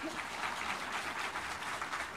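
An audience at a Buddhist sutra lecture breaks into applause, a dense, even patter of many hands clapping steadily throughout, with no voices standing out.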